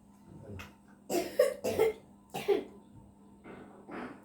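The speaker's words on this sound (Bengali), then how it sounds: "এবার ওকে ওকে কাশি এসেছে?" A child coughs in several short bursts with a throat-clearing sound, close to the microphone. The coughs come in clusters with pauses between them, and a faint voice can be heard in the background.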